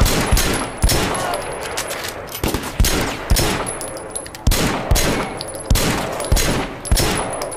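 Rapid bursts of gunfire from a Sleeping Dogs Definitive Edition shootout, loud and close, with repeated sharp shots and automatic volleys recurring roughly every second over dense game ambience.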